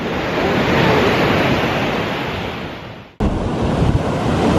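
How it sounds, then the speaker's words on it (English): Ocean surf washes onto the coast at Lincoln City, Oregon, a steady broad roar close by with wind buffeting the microphone and a brief cut partway through, no voices. "Sound of the waves."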